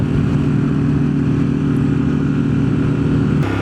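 A custom Harley-Davidson Pan America Special motorcycle engine revs high while riding, a loud sustained buzzing drone close to the rider with steady pitch and wind rumble, no talk.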